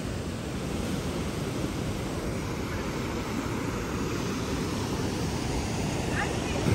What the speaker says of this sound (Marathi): आवाज बघा धबधब्याचा.